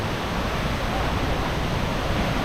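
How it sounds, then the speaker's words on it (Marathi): The Madhe Ghat waterfall near Pune roars in the monsoon, heard from a distance as a steady, broadband rush of falling water with no break. "तर तुम्ही पाहू शकता आपला मडेघाट धबधबा, हा सुंदर व्ह्यू."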